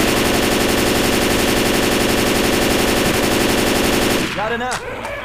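Sustained automatic M16 gunfire in Left 4 Dead 2 rattles loud and continuous for about four seconds before cutting off into quieter game sounds.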